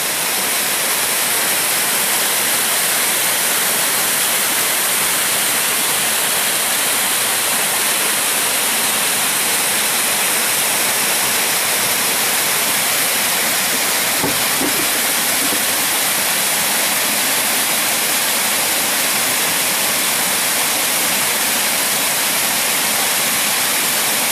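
Stream water rushing steadily and loudly, a continuous broad roar that never pauses.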